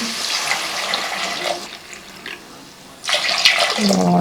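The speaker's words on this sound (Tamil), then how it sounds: "இப்போ மூணு டம்ளர் வந்து தேங்காய் பால் ஊற்றியாச்சுங்க" Coconut milk is poured into a pressure cooker in a kitchen, giving a soft, steady liquid pouring and splashing sound in two bursts with a brief pause between them, close and moderately loud.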